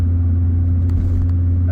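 An Audi 90 20v engine hums with a steady low rumble on a country lane drive, a close, even drone with little change in pitch over a brief moment, no one talking.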